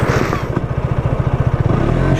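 A KTM motorcycle engine-brakes while coasting, its engine throbbing in a fast, regular low pulse that sounds close and loud for a couple of seconds.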